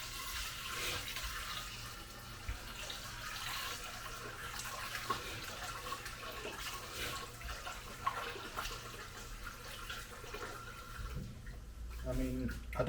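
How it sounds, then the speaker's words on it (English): Chickpeas are washed in warm water in a kitchen, producing continuous close splashing and running water with small clatters, while a person talks over it. "I tend to wash it in warm water to start."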